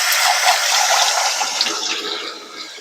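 Hot water poured into a cup as morning coffee is made, a steady rushing splash that fills the space, loud and close, then slowly eases off toward the end with no one talking.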